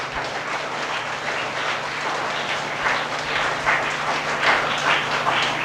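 Church congregation applauding in thanks, a broad, even wash of many hands clapping inside a large hall, steady and moderately distant with a low hum beneath.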